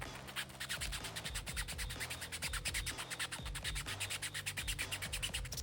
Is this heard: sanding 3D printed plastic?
yes